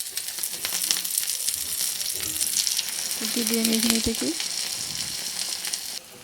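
Pumpkin flower fritters fry in hot oil with a steady, close sizzle and crackle that runs throughout, while a person speaks briefly over it.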